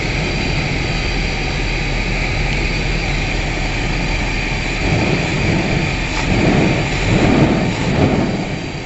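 An RV generator engine idles after its idle speed was turned down, a loud steady drone with a constant hum that swells slightly near the end, close and with no voices.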